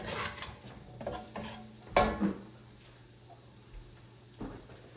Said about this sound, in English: So we're gonna just saute this a little bit.